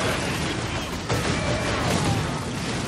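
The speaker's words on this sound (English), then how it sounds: "Grenade!" A grenade blast in the Space Marine video game makes a dense, roaring wash of explosive noise and crashing debris that carries on steadily and loud throughout, with no talking.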